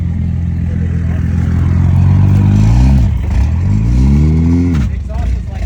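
A crashed Toyota Supra with a DCT gearbox revs its engine, the exhaust rising and falling in two loud, deep revving swells close by, with no talk over it.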